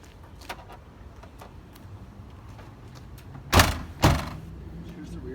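A Ram ProMaster van's rear door, fitted with a rear access ramp, shuts in two loud close thuds a moment apart after some light clicks and handling noises, with a voice nearby.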